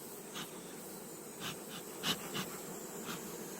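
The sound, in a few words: honeybees buzzing at a beehive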